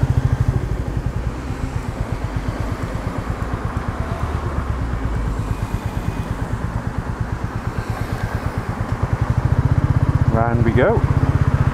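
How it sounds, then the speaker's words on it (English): Royal Enfield Meteor 350 single-cylinder motorcycle engine pulsing steadily while riding, a low rhythmic thump heard up close throughout, with someone talking over it and a brief rising tone near the end. "with the visor open, you can hear the hum of the engine, listen"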